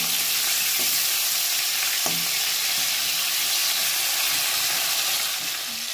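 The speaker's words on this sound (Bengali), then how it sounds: "কাঁকড়াটা আমার এক পিঠ ভাজা হয়ে গেছে, এবার কাঁকড়াটাকে আমি উল্টে দেবো, উল্টে এপিঠও ভালো করে নেব।" Whole crab frying in hot oil in a pan as it is turned over to cook the other side, a steady dense sizzle throughout with a few soft scraping knocks from the turning, no voices.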